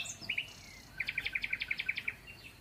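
Small caged birds at the El Harrach bird market in Algeria, with a couple of short chirps followed by a fast, evenly spaced run of about a dozen bright, clear notes close by over faint background murmur.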